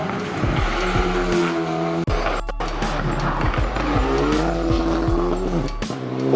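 An Alpine A110 GT4 race car drives hard, its engine rising and falling through gear changes with tire squeal, loud and close, one sharp break in the sound partway through.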